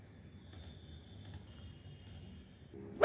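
Three sharp computer mouse clicks, evenly spaced about three-quarters of a second apart, sound close and crisp over a faint electronic hum, followed by a brief louder noise at the very end.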